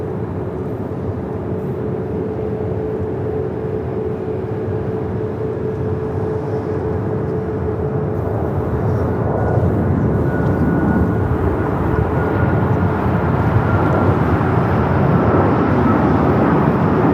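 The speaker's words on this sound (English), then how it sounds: "American Airlines 2308 taking off to Raleigh-Durham on the MAX 8." An American Airlines Boeing 737 MAX 8 airliner takes off at LAX, heard from a distance as a broad, steady jet roar that grows louder toward the end, with no voices over it.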